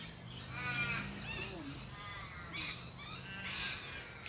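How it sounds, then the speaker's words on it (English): Several crows caw outdoors in repeated harsh calls, some near and some farther off, while someone talks steadily underneath. "Some hear the crows and some hear the lorikeets."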